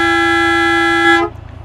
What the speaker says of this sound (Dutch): Ik heb toeteren nog.